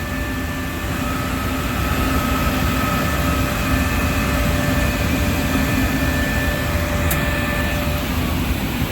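Trane Intellipack HVAC unit lighting its pilot and then its burner flame, heard as a steady, loud broadband roar with faint tonal hums running throughout and no speech.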